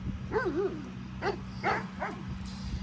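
A livestock guardian dog gives a few separate barks and yelping calls at a neighbouring dog, with a low steady hum underneath, fairly close and moderately loud.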